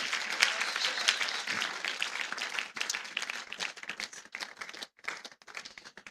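A church congregation at a Sunday service breaks into applause, a dense, fairly close clatter of many hands that thins into scattered claps near the end.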